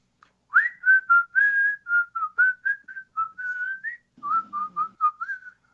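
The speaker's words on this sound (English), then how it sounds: "which is strange because you've never heard Aldo whistle before" A single person whistles a lively tune of about two dozen short, clear notes in quick rhythm, close and alone, during a tabletop role-playing session.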